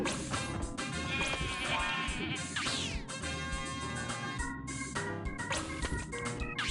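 Sheep in the video game Rocket: Robot on Wheels bleat repeatedly over busy game music and effects, the cartoonish bleats coming in quick overlapping bursts.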